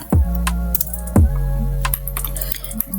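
A few computer keyboard keys are pressed during AutoCAD work, including the Enter key, giving a couple of sharp close clicks with quieter taps between them under a steady background hum.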